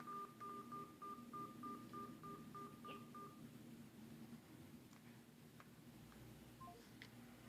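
Phone keypad tones punching in a Zoom meeting ID, a quick run of evenly spaced beeps for about three seconds, then quiet line hiss with a few faint clicks.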